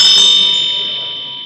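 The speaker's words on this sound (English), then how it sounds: "the sound of the bell reminds you of the emptiness of all phenomena" A Tibetan Buddhist ritual bell rings once during a Chakrasamvara empowerment, its bright sustained tone decaying slowly with no voices over it.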